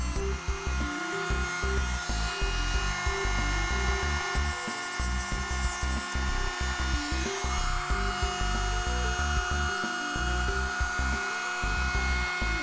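A handheld rotary tool trims the plastic edges of a project box for a motion sensor light circuit, giving a steady, loud high-pitched whine with grinding bursts that runs continuously for several seconds.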